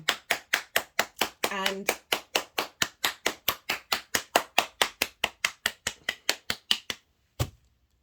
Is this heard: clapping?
yes